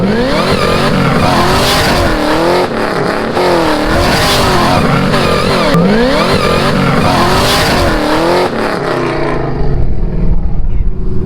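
Chevrolet Camaro ZL1, modified to about 940 hp, cruises with its exhaust closed, giving a steady loud engine drone with shifting rev sweeps throughout before easing off near the end.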